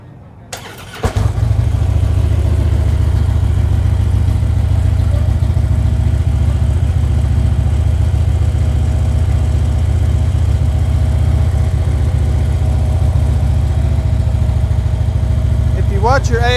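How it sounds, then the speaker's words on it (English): A Harley-Davidson Street Glide fitted with a Thundermax engine management system cranks and fires, then settles into a loud, steady, deep idle that runs for a long stretch close to the listener. "Okay, we're ready to start the bike."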